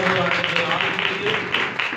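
Loud applause from a church congregation, a dense, sustained wash of clapping hands mixed with voices and cheering.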